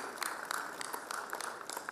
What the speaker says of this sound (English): A big round of applause, sir.